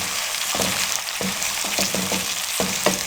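Chopped tomatoes and onions sauté in a pan, a bright steady sizzle punctuated by several rhythmic scraping stirs of a spoon, close and clear without speech.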